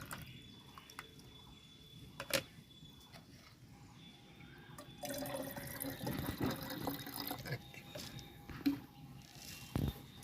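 Water poured from a container into a potted fruit plant on a rooftop: soft, quiet splashing and trickling that picks up in the second half, with brief drips and faint background noise.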